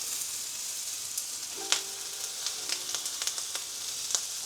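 Onions fry in a cast iron pan with a steady, bright sizzle and crackle, broken by a few soft clicks and scrapes as they are stirred. No one speaks.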